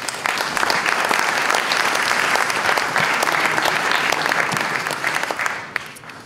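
Sustained applause from a book-prize ceremony audience, dense and steady throughout, fading slightly toward the end.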